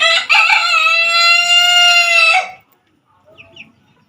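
A rooster crows loudly and close by in one long drawn-out call, followed by a few faint clucks, among village chickens and Arab breed hens.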